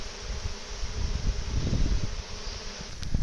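A wild honeybee swarm shaken into a hive box buzzes in a steady, close drone, swelling toward the end amid rustling and knocks.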